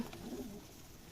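Soft, low cooing of pigeons at a pigeon farm, a brief murmuring call near at hand against quiet background noise.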